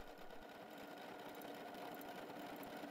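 A W6 N 5000 Exklusive sewing machine runs pattern 47 in a continuous loop, a steady, fairly quiet mechanical whir with a fine rapid stitching pulse and no talk.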